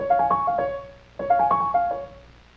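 A steel pan plays a fast arpeggio twice in quick succession, each a rapid cascade of bright struck notes that fades before the second run begins, with no voices.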